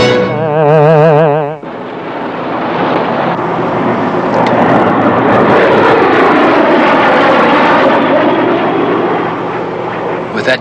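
Aircraft engines drone overhead in a sustained, loud roar that swells and lingers for several seconds, following a brief burst of dramatic music at the start.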